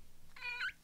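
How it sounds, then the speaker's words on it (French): A cat gives a single clear meow in a home, rising and bending in pitch, close to the microphone over a faint low background hum. "C'est un chat."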